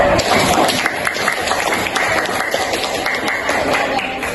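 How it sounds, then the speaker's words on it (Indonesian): Classroom of students clapping hands together during a Grade 7 social studies lesson, a dense, steady patter of many hands sustained throughout, close and fairly loud. "Iya, kasih tepuk tangan untuk itu."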